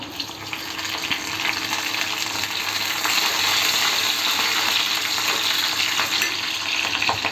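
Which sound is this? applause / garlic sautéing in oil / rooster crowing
garlic sautéing in oil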